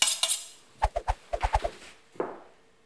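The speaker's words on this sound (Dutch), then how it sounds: "Sla snijden." A knife cuts finely through lettuce on a cutting board, a quick series of about eight crisp chops in two bursts, close and clear with no talking.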